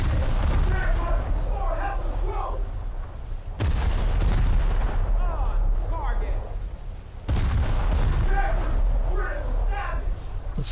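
Naval gunfire in a warship battle video game, heavy booming salvos that repeat roughly every three and a half seconds, loud and dense with a constant rumble, a voice talking over the barrage.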